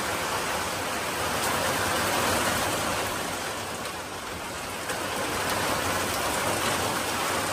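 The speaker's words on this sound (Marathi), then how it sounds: "आज पूर्ण दिवसभर पाऊस आहे." Heavy monsoon rain in a Konkan village pours down as a dense, steady roar of falling water, loud and unbroken throughout with no voices.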